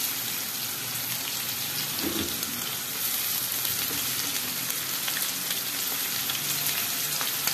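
Lamb liver goes piece by piece into a hot frying pan, producing a steady, close hiss of sizzling fat with a small knock partway through and no voices.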